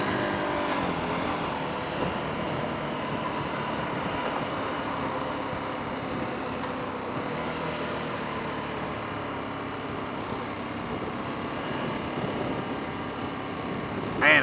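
A 2017 KTM 1290 Super Adventure R motorcycle engine drones steadily while riding at speed, a continuous close-up roar mixed with wind, holding level throughout with a brief rise at the very end.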